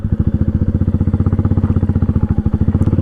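Royal Enfield Meteor motorcycle engine on a gravel road, a near, loud low thumping exhaust with a very regular pulsing beat sustained throughout, no voices.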